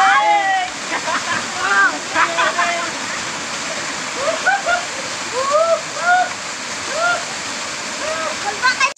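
River water rushes steadily near a cave in Dalipuga, a constant loud hiss of flow while several voices talk and shout over it close by.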